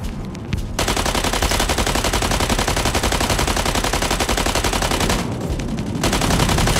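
Sustained rapid gunfire from battling mechs in the Mech Arena video game, a loud continuous barrage that runs almost the whole time with dense rattling bursts and no talking.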